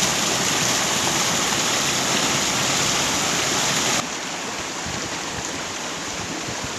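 Rushing water from the Da Mi nine-tier waterfall in Binh Thuan, a steady broadband roar that carries on without a break. It drops a little in level partway through but stays continuous.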